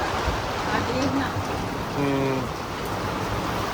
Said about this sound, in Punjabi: ਹਵਾ ਦੇ ਨਾਲ ਉਹ ਕਦੀ ਬਾਰਿਸ਼ ਐਨ ਹੋ ਜਾਂਦੀ